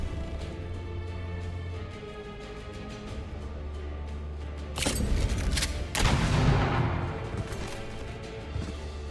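Cannon fire in the fantasy strategy game Age of Wonders 4, two booming shots a second apart rising over a low droning background, the second followed by a crashing rumble.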